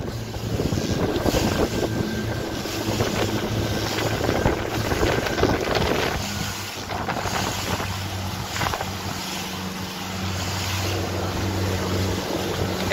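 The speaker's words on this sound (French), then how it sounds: "donc vous entendez bien le bruit du moteur." A boat motor drones steadily behind a sailing race commentator during a regatta, a low continuous engine hum with wind buffeting the microphone and gusty water noise throughout, no speech audible.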